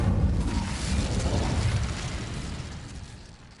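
A fiery Incendio spell bursts in the Hogwarts Legacy video game with a loud, broad roaring whoosh that swells at once and then fades away over a few seconds, with no voices over it.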